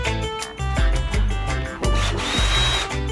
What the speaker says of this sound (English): Then we're gonna drill it.